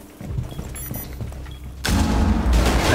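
Gunfire blasts at floor hatches in Rainbow Six Siege, starting as scattered thumps and shots, then swelling into a loud, sustained barrage of close shooting for the last second.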